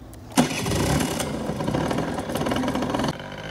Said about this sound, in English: That's a beautiful sounding engine